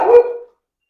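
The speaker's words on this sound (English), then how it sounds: "And Roxy's barking at him" A single loud, close bark from a dog in a home kitchen, one short sharp yelp that cuts off quickly into silence.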